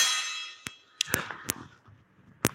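Airsoft pistol shots during a basic shooting drill: several sharp, short cracks spaced irregularly, close and distinct, with a faint trailing tone at the start and no talk.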